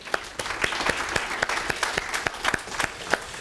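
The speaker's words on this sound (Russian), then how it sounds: "я предлагаю поприветствовать аплодисментами наших участников" A conference audience applauds in a short, moderately sized round, individual claps distinct and rhythmic, welcoming out-of-town participants, with no voices over it.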